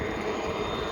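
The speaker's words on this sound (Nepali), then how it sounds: "अहिले पनि हेलिकप्टर हिँडिरहेछ" A helicopter flies overhead, a steady broadband engine and rotor roar with a low rumble, continuous and fairly loud throughout a brief moment, with no voices.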